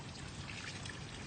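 Spring water from a fountain at Discovery Bay pours and trickles in a steady, soft, continuous stream, heard alone for a brief moment.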